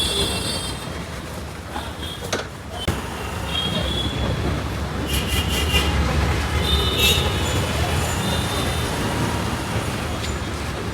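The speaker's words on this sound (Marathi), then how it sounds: "मेट्रो गेली मेट्रो गेली" A metro train rolls past nearby with a continuous low rumble and rattling, brief clanks and hisses rising over the steady roar.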